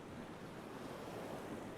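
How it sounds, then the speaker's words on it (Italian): Lake Garda waves churning under an evening wind, a steady, dense wash of water noise with gusty wind rumble throughout and no voices. "Poi sentite il lago che è un po' nervosetto stasera"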